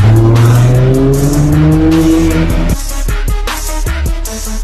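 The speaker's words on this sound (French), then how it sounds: "C'est bestial. McLaren Senna." A McLaren Senna supercar in a Monaco car park, its engine loud and near, rising in pitch as it accelerates, then breaking into a rapid burst of crackles and pops.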